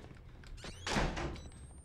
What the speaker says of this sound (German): Da hat jemand gerade die Tür vor der Nase zugeschlagen.